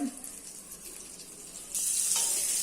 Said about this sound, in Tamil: நான் ஸ்டவ்வை பத்த வச்சு பேனை நல்லா காய வச்சிருக்கேன். அதுல நெய் விடுறேன், பட்டர்.